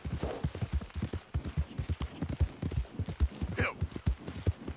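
Horse hooves clip-clop in steady, rapid rhythm in Red Dead Redemption 2, a near and continuous gallop-like patter with faint game ambience and no talk over it.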